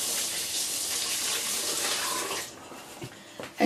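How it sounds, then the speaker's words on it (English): Tap water runs steadily as hands are rinsed under a faucet at a soap-making bench, a broad continuous splash that cuts off partway through, followed by a few faint clicks and drips. "Going to wash my hands."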